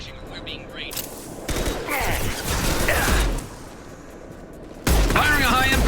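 Gunfire and combat effects in the video game Mass Effect 2, bursts of weapon shots and mechanical clatter over a rumbling battle bed, with a loud impact hit near the end.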